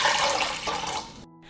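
Water poured from a jar or tap into a cooking pot, a loud rushing splash that fills the space, then cuts off abruptly leaving a faint hum.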